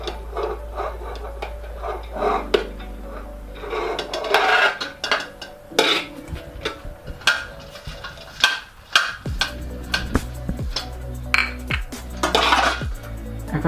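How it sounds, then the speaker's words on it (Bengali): Hot parboiled rice spread and leveled over meat in a pot for Old Dhaka-style kacchi biryani, with repeated close scraping and clinking of a metal spoon against the pot in an irregular rhythm. "এবার এর মধ্যে চালটা বিছিয়ে দিচ্ছি। চালটা খুব গরম, তাই সাবধানে চালটাও সমান করে দিয়ে দিচ্ছি,"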